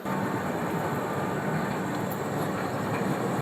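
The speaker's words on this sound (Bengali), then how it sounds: "এই 12887 শালিমারপুরি সুপারফাস্ট এক্সপ্রেস এই ট্রেনটা" The 12887 Shalimar–Puri Superfast Express at a station: a loud, steady rumble and rush fill the air nearby without a break, ending abruptly.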